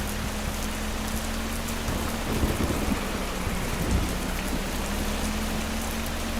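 Steady rain with rumbling thunder from the video game Schedule I, a continuous hiss of rainfall with low rolls of thunder swelling in the middle, moderately loud and constant.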